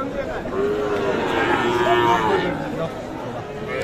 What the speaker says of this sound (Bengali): এই পাশে দেখছি দুইটি গরু শাহিওল বাছুর